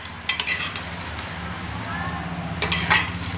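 Mutton with onion and tomato stirred in a pot, a low steady sizzle with scraping spoon strokes against the metal at the start and near the end.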